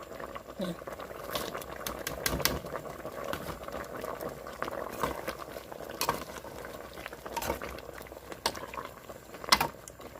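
Bamboo shoot curry liquid bubbling in a pot, a soft continuous simmer with scattered pops and patters, fairly quiet and close, while a voice talks intermittently over it.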